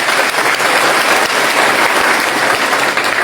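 A crowd at a political candidacy announcement breaks into loud, dense applause that holds steady for a few seconds.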